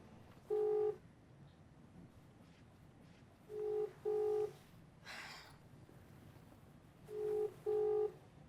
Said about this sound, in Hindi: मैं मॉम को अभी के अभी फोन करना चाहिए